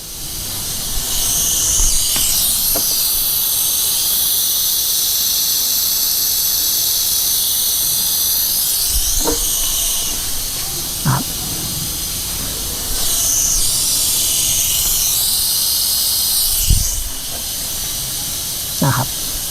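A pneumatic brake bleeder and fluid extractor sucks fluid from a vehicle's brake system, giving a steady loud airy hiss throughout with a few brief clicks and knocks, and some faint talk beneath it.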